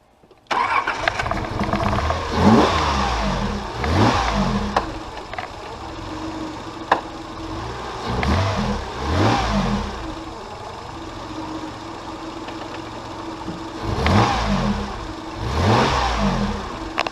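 A 1994 Chevy motorhome's 6.5 L turbo diesel cranks and catches on a cold start, then revs in several loud surges separated by rougher idling stretches, close by with no talk.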